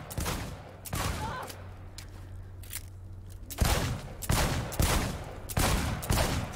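Loud, close gunfire at a timed shooting challenge in the video game Cyberpunk 2077: a few sharp shots, a short lull, then a run of evenly spaced heavy shots.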